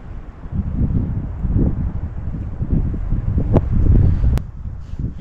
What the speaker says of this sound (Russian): Ветер, конечно, не знаю, там по записи что получится.